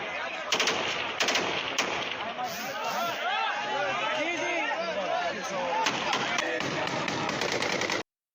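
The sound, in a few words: gunfire in a played video clip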